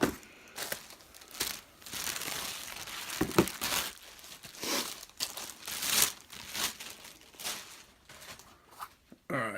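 Plastic wrapping crinkles and rustles in uneven bursts as Cole Haan Grandevolution shoes with gray suede uppers are unwrapped, close and fairly quiet with brief pauses between handling.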